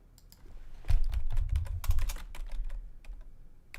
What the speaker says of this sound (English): I am typing in the chat.